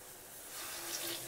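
Water is poured into a cooking pot while making egg biryani, giving a soft, steady stream of running-water splashing that grows slightly fuller over its brief length, quiet and with no voices.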